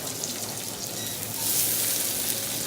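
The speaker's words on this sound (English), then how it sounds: "I'm just going to saute my vegetables a little bit more and add a little pepper to finish" Vegetables and garlic sautéing in a pan give a steady, close sizzle of frying that swells slightly louder partway through, with no talking.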